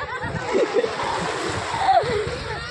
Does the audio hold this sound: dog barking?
no